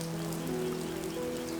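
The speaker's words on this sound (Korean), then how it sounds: "갑자기 비가 많이 내리네요." Heavy rain pours down on a traditional Korean hanok, a dense steady patter of drops on the roof and surfaces, close and continuous with no voices.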